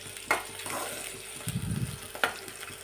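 Onions and green chillies frying in a pan for a tomato-onion chutney make a quiet, close sizzle with a few sharp spoon clicks against the pan and a short burst of louder stirring midway.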